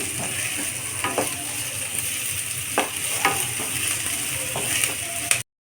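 Chopped onions fry in a pan for dhaba-style lasooni palak, giving a steady close sizzle broken by irregular scraping taps as a spoon keeps them moving.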